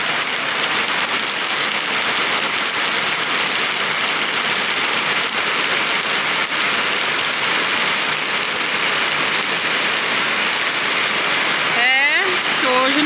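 Heavy rain pours steadily in Floresta do Araguaia, Pará, as a dense, loud, unbroken hiss that lasts throughout. A brief chirp or squeak rises near the end.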